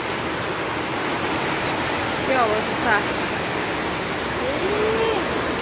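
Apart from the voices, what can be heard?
heavy rain outside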